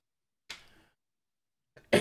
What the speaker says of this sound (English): Pardon my coughing again.